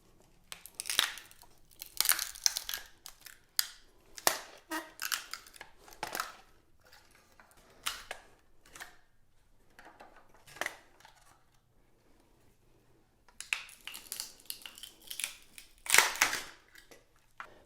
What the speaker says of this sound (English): I'm going to just try to cut it on an angle.